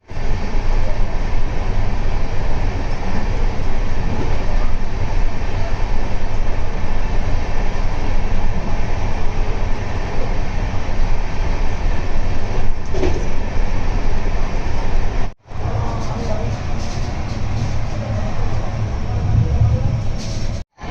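Indian passenger train 18551 Kirandul Express between Visakhapatnam and Booraguhallu, heard from on board: a loud, steady roar of wheels on rails with faint clatter, two brief cuts to silence, no talk.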